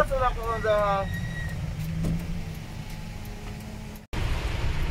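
Rain drumming steadily on a car while riding out in farm country, a constant hiss heard from inside the cabin with vehicle rumble beneath and people talking.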